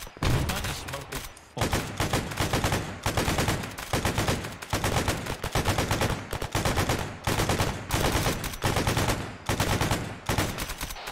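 A .50 caliber machine gun firing in Arma 3, loud and close, in repeated long bursts of rapid heavy shots separated by short pauses, with some faint talk between bursts.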